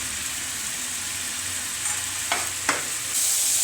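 Green chillies and spices sizzle steadily in hot oil with mung dal, a continuous close frying hiss broken by a couple of sharp scraping stirs near the end.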